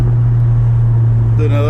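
A 2019 Honda Civic Sport with its muffler deleted drones at a steady, loud, low exhaust note, then rises sharply near the end as the driver downshifts.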